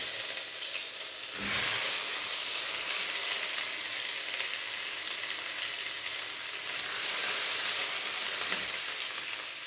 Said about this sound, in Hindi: तो सबसे पहले यहाँ लहसुन अदरक की पेस्ट डाल देते हैं, इसको सौते कर लेते हैं।